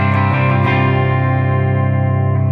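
A clean electric guitar chord rings out through a Marshall DSL amp on its clean channel, sustaining smoothly with a bright, full tone and no talking.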